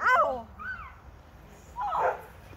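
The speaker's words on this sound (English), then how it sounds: "being attacked by a dog" A dog gives short whimpering yelps and whines in two separate bursts, close and fairly loud, with a quieter high cry between them.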